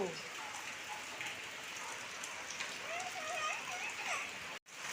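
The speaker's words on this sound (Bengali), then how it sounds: "দেখো কত বৃষ্টি হচ্ছে এদিকে ভীষণ বৃষ্টি" Heavy rain pours steadily onto surfaces as a dense, continuous broadband wash, close and loud, with faint voices and a brief thin whistling tone under it before a sudden short dropout near the end.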